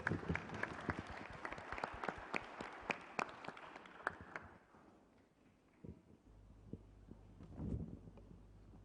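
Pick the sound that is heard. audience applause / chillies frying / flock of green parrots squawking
audience applause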